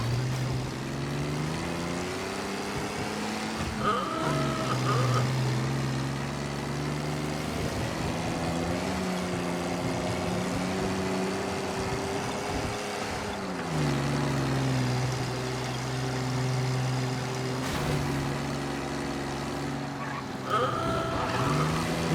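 Steady engine drone of a car being driven in the Mafia video game, a continuous mid-level hum with shifting pitch as it accelerates and eases off, running throughout with faint background music.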